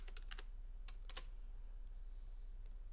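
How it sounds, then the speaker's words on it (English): Close, quiet typing on a computer keyboard: a few clustered key clicks, a pause, then another short burst over a low steady hum. "I'm going to start by just typing a sentence"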